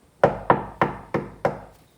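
Five evenly spaced knocks on a wooden door, close and crisp, each a hollow thud with a short decay, sounding alone in a quiet room.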